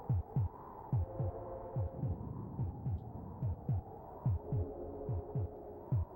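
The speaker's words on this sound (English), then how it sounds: "You don't hear that wonderful heartbeat?" A synthesized heartbeat from the SNES game Populous thumps in steady, evenly spaced lub-dub pairs over a low droning hum, close and continuous with no other sounds.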